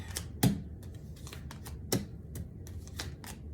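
Tarot cards are riffled and shuffled up close in quick, crisp bursts of flicking and slapping, with a couple of sharper snaps among the softer card riffles.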